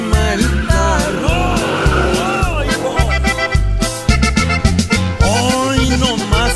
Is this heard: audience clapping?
no